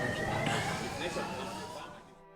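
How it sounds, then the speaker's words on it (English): An ambulance siren wails, rising and holding over steady city street noise in Jerusalem, with people talking nearby before the sound fades at the end. "Can you hear the sirens, the ambulance?"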